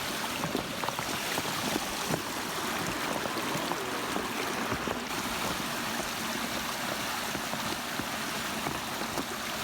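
Trailside stream flowing steadily on a hiking trail, a soft, constant wash of rushing water with faint trickles, heard quietly and alone.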